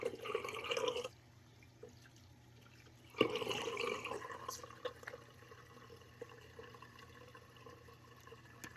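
Water splashes and trickles while rinsing shaving lather off after a shave, a short burst of running water, a pause, then a second splash that tapers into faint drips.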